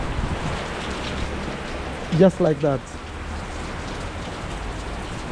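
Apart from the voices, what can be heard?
rain falling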